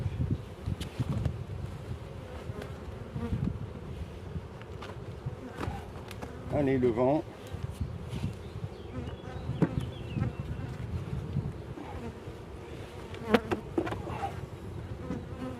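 Honey bees buzz and drone close by at an open hive against gusty wind noise on the microphone, with a brief spoken remark in French partway through.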